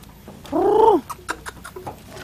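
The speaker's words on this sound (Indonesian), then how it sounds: "hayam aing jago kieu ya" A young rooster crows once, close and loud, a short rising-and-falling call, followed by scattered clucks and soft scuffing noises nearby.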